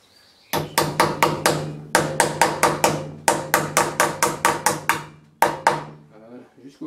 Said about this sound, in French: je prends un plomb de 10 grammes tout simplement. Ce qui m'a servi pour enlever les plombs, bah, je me sers de ça comme marteau